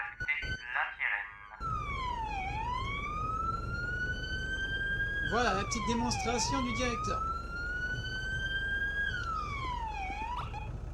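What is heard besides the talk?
police siren in the video game GTA roleplay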